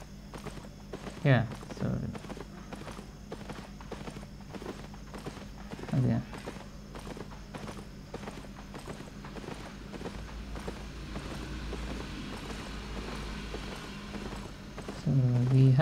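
Horse hooves clip-clop steadily under a rider in the game Albion Online, a soft repeating walking rhythm that runs throughout while someone talks over it at moments.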